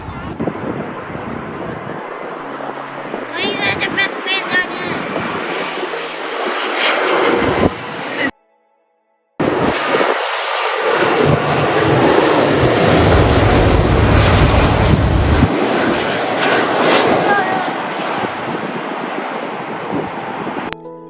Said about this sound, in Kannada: ಇವಾಗ ನಾವು ನೋಡ್ತಾ ಇದ್ದೀವಿ ಲ್ಯಾಂಡ್ ಆಗ್ತಾ ಇರೋದು ಏರೋಪ್ಲೇನ್ಸ್ ಎಲ್ಲ